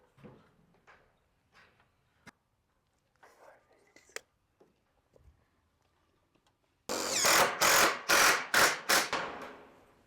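A rapid burst of loud power-drill whirring, several short pulses in quick succession, follows quiet murmuring and whispering voices.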